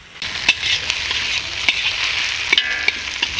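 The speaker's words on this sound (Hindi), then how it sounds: "अब हम आलू को प्याज के साथ में अच्छे से पका लेते हैं।" Sliced potatoes and onions fry in a pan for kachori filling, a close, continuous hiss of sizzling with occasional stirring clicks and scrapes, no voices.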